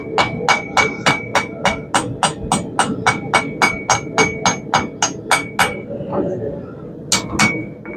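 A steady run of about twenty ringing hammer blows strikes hot steel on an anvil during the forging of a herb chopper. The rhythm is even and the blows are close, then a short pause comes before two final strikes.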